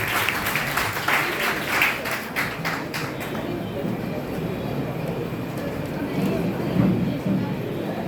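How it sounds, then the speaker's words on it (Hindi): Audience applause at a Hindi poetry gathering on cleanliness, dense steady clapping from a crowd lasting several seconds, strongest at the start and gradually thinning. "तालियों से स्वागत करिए"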